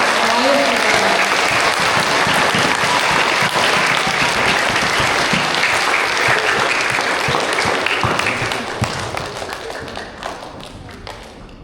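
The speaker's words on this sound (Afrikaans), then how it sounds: "Kom ons klap vir Dalton baie." A school assembly hall of grade 1 to 3 pupils breaks into loud, dense applause with crisp individual claps, holding strong before tapering off toward the end.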